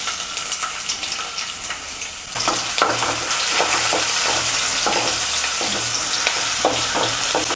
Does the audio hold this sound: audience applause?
no